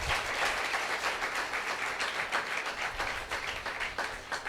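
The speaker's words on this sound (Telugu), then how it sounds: "గట్టి కొట్టండి చప్పట్లు." Church congregation clapping loudly and steadily after the closing blessing prayer, a dense continuous wash of hand claps with no speech over it.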